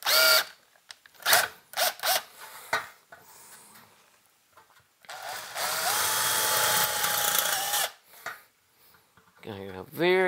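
A power drill with a new bit whirs in short bursts, then bores steadily for a few seconds through a hole for a tube amplifier's tube rings, high and grinding, with clattering handling noises around it.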